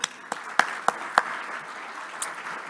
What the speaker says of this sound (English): So I'd like to give a little round of applause for the team